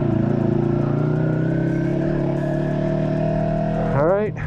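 A car pulls out and its engine revs hard nearby, a loud sustained droning note that holds steady and then sweeps upward sharply at the end, with wind buffeting in the background.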